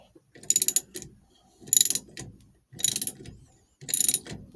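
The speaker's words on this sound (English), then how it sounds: "you should have it do about 4 turns with the socket wrench" A socket wrench ratchets in four distinct bursts of rapid clicking, turning the puller on a Shelby Mustang steering wheel, close and clear with short pauses between each stroke.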